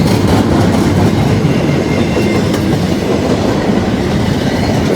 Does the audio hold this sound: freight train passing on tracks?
yes